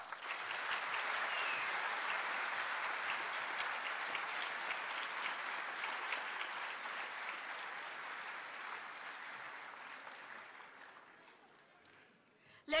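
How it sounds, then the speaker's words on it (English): Sustained applause from a large crowd at a university building inauguration, loud and steady for most of the stretch, slowly thinning out toward the end before a brief final burst. "a huge round of applause"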